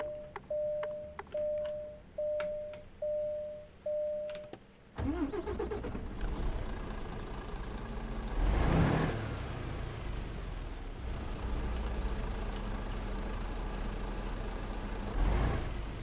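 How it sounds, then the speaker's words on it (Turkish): A car's ignition chimes beep repeatedly, then the engine cranks and catches, settling into a steady close idle heard from inside the cabin with a couple of louder revs. "Bir de içeriden çalıştıralım aracı."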